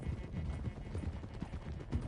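Horse hooves clip-clopping in the Red Dead Redemption II video game, a steady low rhythmic clatter of several hoofbeats throughout without talk.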